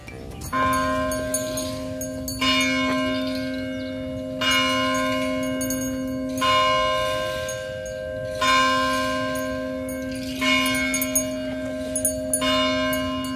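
Church bells of the UP Diliman carillon, Philippines, chime in steady, evenly spaced groups of clear, ringing strikes whose tones sustain between peals, heard alone and fairly close.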